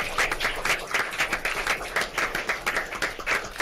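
Audience applause at a college board of regents meeting, brisk and fairly loud with individual claps distinct in an uneven rhythm throughout.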